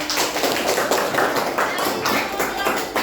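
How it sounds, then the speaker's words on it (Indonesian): A primary school class bursts into quick, dense clapping for a pupil, many hands tapping fast and close together in an elementary classroom, with a faint murmur of children underneath. "tepuk tangan untuk Balkis"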